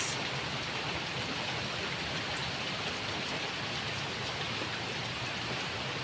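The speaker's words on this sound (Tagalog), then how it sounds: "ang kapiligiran, umuulan." Steady, dense rain pours down continuously, a broad hiss of drops with no voices.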